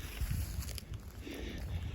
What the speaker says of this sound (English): And now it's getting windy again.